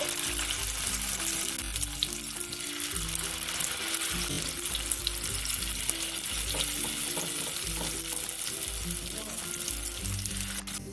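Soybean shami kebabs fry in a hot pan with a steady, close sizzle that carries through the whole stretch, broken by low thumps and scraping as pieces are laid in and moved. No one speaks.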